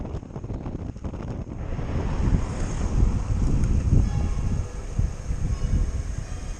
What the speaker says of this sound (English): you can hear all the air buffeting around his body